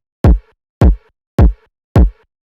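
Four punchy electronic kick drum hits for a moombahton track land evenly spaced, each a sharp deep thump with a short decaying tail, separated by silence.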